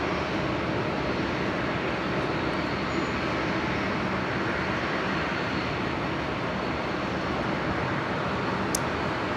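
A full-length departure from runway 01 left at Brisbane International Airport, with a steady, broadband engine roar that stays loud and constant throughout, distant rather than close, with no talk over it.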